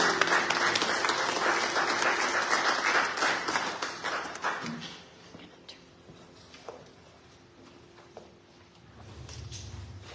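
Audience applause for a group of musicians at a fellowship service, a dense loud clapping that fades after about five seconds into quiet room noise with scattered claps, then a low rumble near the end.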